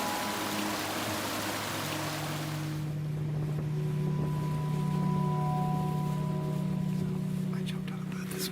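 A motorboat motors across crystal-clear water in British Columbia, a steady droning engine hum under rushing water and wind noise that drops away partway through and leaves the engine tone clearer.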